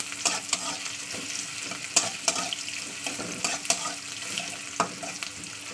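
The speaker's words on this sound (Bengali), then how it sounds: "দিয়ে দিচ্ছি পেঁয়াজ। পেঁয়াজটাকে একটু লালি করে ভেজে দিতে হবে।" Onions fry in hot oil while being stirred, producing a continuous close sizzle with scraping stirs and sharp spatters at intervals, no voices.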